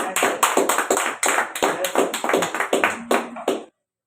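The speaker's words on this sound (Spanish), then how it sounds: "yo le daría un aplauso al Señor" A church congregation claps in praise to the Lord during a sermon, with close, loud, steady rhythmic handclaps at a quick even beat that stop abruptly near the end.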